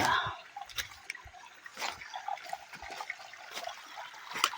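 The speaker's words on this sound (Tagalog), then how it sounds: "Naapoy tubod diri nga kuhaanan na mog tubig." Water from a natural mountain spring trickles and splashes continuously close by, with irregular dripping and gurgling bursts.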